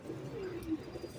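A breeder pigeon, a star pigeon kept in a loft, gives a soft, low cooing call close by in a quiet evening setting, with no voices over it.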